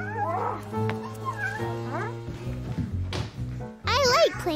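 A child in a cat mask voices a playful imitation of a cat's meow, with rising and falling harmonic cries over background music and other voices, ending in a louder drawn-out meow.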